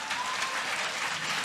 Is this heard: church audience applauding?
yes